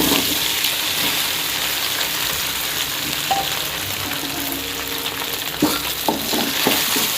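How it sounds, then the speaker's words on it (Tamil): Coconut seralam pieces frying and being stirred in oil with mustard seeds and urad dal, a steady close sizzle with occasional scraping clinks of the spoon against the pan. "கொட்டிட்டு நல்லா கிண்டி விட்டுக்கோங்க."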